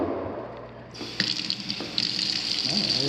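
Water from a kitchen sink faucet in a condo starts gushing after a moment of low background noise, then runs steadily with a hissy splash, close by.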